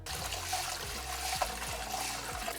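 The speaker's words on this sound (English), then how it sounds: "I want to pour it into a small amount of cold water to start washing" Sushi rice being washed by hand in a small amount of cold water, a close, continuous swishing and trickling with faint knocks, no voices.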